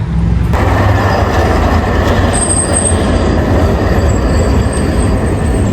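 A tram ride through Antalya, Turkey: loud, steady rumble of wheels on rail with a sustained metallic wheel squeal joining partway through, close and continuous with no talking.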